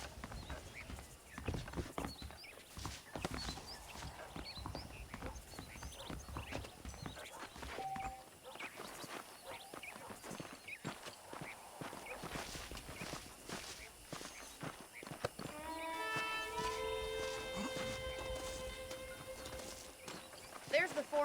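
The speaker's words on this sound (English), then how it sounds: "The horses are saddled up over here." Saddled horses in the Red Dead Redemption video game clip-clop at a steady walking pace throughout, with spoken dialogue and game music over the hoofbeats.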